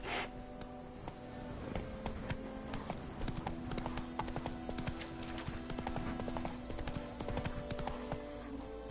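Horse hooves from The Witcher 3: Wild Hunt video game clip-clop in a quick, steady gallop rhythm, close and continuous, with faint game ambience underneath.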